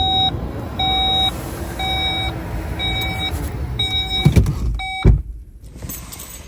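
A car sounds a run of short, evenly spaced electronic beeps in a quiet outdoor campsite, with a couple of thuds near the end.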